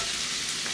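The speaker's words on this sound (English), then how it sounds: "Ooh. That sizzle." Oil crackles and sizzles steadily in a hot pan while making chicken nachos, a close, continuous hiss with no talking.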